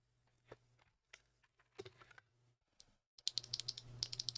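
Keys on a Kyubi 75 keyboard fitted with tactile Haimu switches with UPE stems and 66 springs, pre-lubed, clack in scattered single presses, then break into a quick burst of close, crisp typing toward the end.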